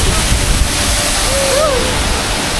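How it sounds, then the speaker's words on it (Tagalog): Steady broadband rush of a waterfall in Bohol fills the scene continuously at close range, with a brief whistle-like tone partway through and faint voices beneath the water noise. "Kaharap namin yung falls!"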